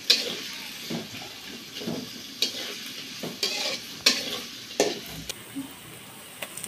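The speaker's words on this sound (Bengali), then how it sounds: "দুই চামচ পেঁয়াজ রসুন আদা বাটাতে দিলাম, একটু লাইরা করে সুন্দর করে একটু বাজিয়ে দিলাম" Onion, garlic and ginger paste fries in hot oil for a Bengali fish-head muri ghonto, a steady close sizzle broken by repeated sharp scrapes and clinks of a stirring spoon, with no talking.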